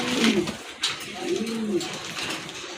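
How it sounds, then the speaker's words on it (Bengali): A pair of silver Golla pigeons coo close by, a few soft, rolling low coos in quick succession over a quiet background. "সিলভার কালার ভিতরে এক জোড়া গোল্লা কবুতর"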